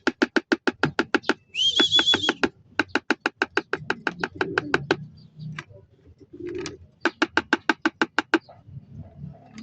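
A pigeon on a rooftop in San Simon, Pampanga, repeats a fast series of pulsing coos in several bursts, with one higher whistled note early on. The calls are close and distinct with short gaps between runs.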